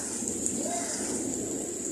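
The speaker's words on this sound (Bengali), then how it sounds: "বৃষ্টির কারণে হয়তো কথা শোনা যাচ্ছে না, বোঝা যাবে না।" Evening rain during a thunderstorm with frequent lightning, a steady soft wash of falling drops heard from indoors, even and unbroken, with a faint low rumble underneath.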